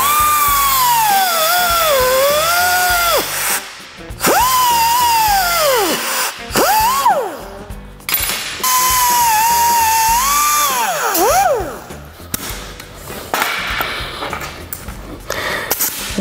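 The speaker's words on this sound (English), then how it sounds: "Now we'll make our trim cuts. I'm gonna use a cutoff wheel" A cutoff wheel makes trim cuts in metal on a welding project, a loud, close, high whine that rises and falls in pitch over several separate bursts with short pauses between them.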